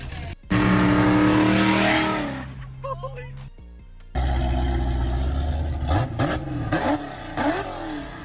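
Carbureted C4 Corvette V8 with open headers and an automatic transmission, revving hard and loud up close in bursts, with a brief gap of idle and some talk mixed in.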